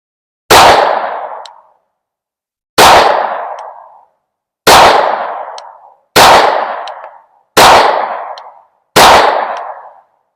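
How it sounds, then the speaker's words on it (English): Pistol fired while sighting in a red dot sight: six loud, sharp gunshots spaced about two seconds apart, each with a short ringing decay, close and alone with no talking. "I think I shot a few too many there"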